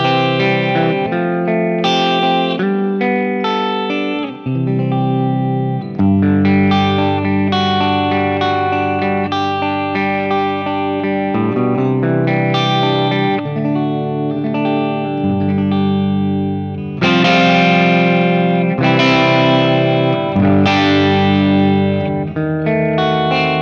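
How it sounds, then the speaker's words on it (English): Electric guitar played through the JTM45 clean amp model on a Fractal Audio FM9, loud, clear chords and arpeggios ringing continuously with a touch of reverb and no talking. "this is just the straight up clean sound"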